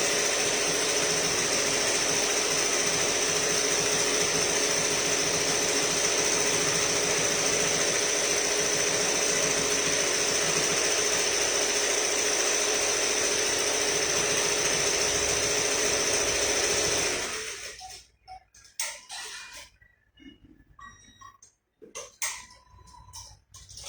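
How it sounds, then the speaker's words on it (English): An embroidery machine stitches a t-shirt with a steady, fast mechanical whirr and rhythmic needle ticking for most of the span, then stops, leaving quiet with a few faint clicks and handling noises. "I will leave it running until finished,"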